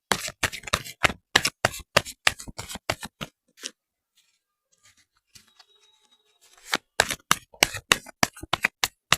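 Tarot cards shuffled by hand in rapid bursts of crisp riffling and snapping, loud and close, with a quiet pause in the middle before the shuffling resumes just as briskly.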